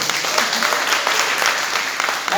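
A church congregation claps in dense, steady applause during a worship service, loud and close throughout with no pause.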